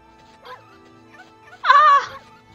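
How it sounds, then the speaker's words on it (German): A dog in the Okami HD video game gives a single short bark with a yelp-like edge, preceded by faint soft whimpers over a quiet background. "Oh, ein Hund!"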